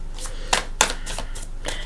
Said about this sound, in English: we're going to shuffle for your cards